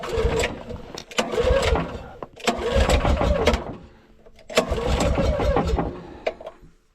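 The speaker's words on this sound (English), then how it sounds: "So switch in the on position, I push it up here, pull the choke, give her a few pulls." Someone yanks the recoil starter of an off-grid gasoline generator three times. Each pull brings a loud, close burst of engine churning, with short pauses between the attempts.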